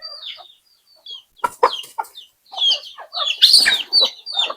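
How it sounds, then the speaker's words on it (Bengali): Free-range local chickens cluck and chatter in short bursts nearby at feeding time, growing busier toward the end, with quiet gaps between calls. "চলেন মুরগিগুলোকে খাবার দিই,"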